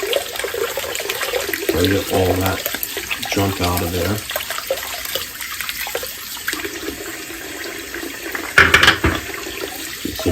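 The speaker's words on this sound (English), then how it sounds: "Run water through each of them" Tap water runs and splashes through the cylinders of a cap and ball revolver during cleaning, close and fairly loud in uneven bursts, with someone talking over parts of it.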